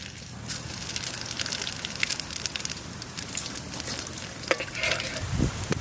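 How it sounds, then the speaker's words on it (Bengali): Bay leaves and whole cumin seeds sizzling in hot oil for a Modhuvola fish curry, a continuous crackly spitting hiss with scattered pops and a few clinks of utensils, close and fairly loud. "তেজপাতা আর গোটা জিরে ফোড়ন"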